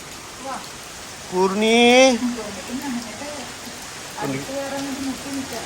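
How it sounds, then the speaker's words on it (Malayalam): Heavy rain hisses as a constant wash of noise, while a voice speaks briefly over it in short bursts. "അപ്പം എന്തായാലും നല്ല മഴയാണ്."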